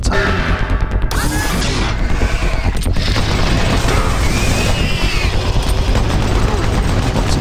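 Heavy weapon fire in Doom 3 BFG Edition, a dense, continuous barrage of loud crashing blasts and impacts filling the whole stretch with no pauses.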